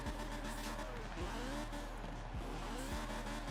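In Forza Horizon 4, a BMW E30 spins tight circles around a person, with a steady engine drone and repeated squealing tire sweeps rising and falling about once a second, loud and close.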